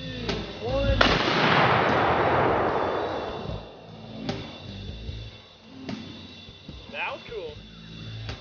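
A 12 gauge Dragon's Breath shotgun shell fires at night with a loud, sharp blast that leaves a long roaring, crackling tail lasting a couple of seconds, followed by excited voices talking.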